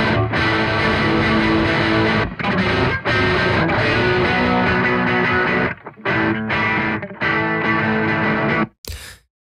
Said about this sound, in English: The Monolith distortion pedal, this one is going to be a lot more aggressive.